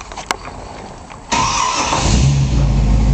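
The 390 V8 engine of a restored 1955 Ford F100 pickup cranks briefly, then catches and fires up into a loud, steady idle with a deep rumble, close by.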